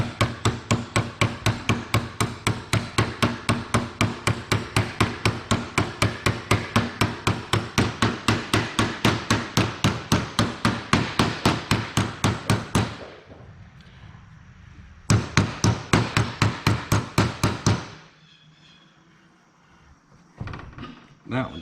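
Rapid, steady hammer taps drive a RZR reduction gear into place, dozens of sharp metallic strikes in a fast even rhythm, close and loud, then brief pauses and a few more taps near the end.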